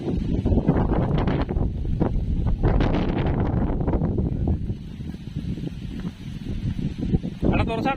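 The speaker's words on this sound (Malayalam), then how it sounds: "ഇത്രയും കാറ്റ് താഴെ ഉണ്ടോ?" Strong gusty wind buffeting the microphone ahead of a thunderstorm, a loud continuous rumbling roar with surging gusts, while people talk under it.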